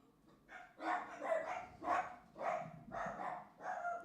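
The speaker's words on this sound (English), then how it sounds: "Dog be going crazy." A dog barks in a fast, even series of about six or seven mid-pitched barks, moderately close and fairly faint, with no talk over them.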